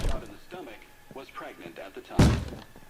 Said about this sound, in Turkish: Hala kapıya vuruyor abi.